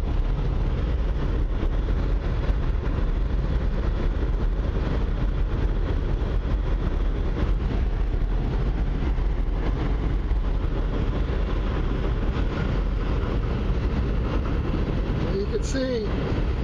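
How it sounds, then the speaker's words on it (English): A noisy train rumbles past outside a motorcycle repair workshop, a continuous low, heavy drone that fills the whole stretch at steady loudness, with a brief higher squeal near the end. "never mind that noisy train out there."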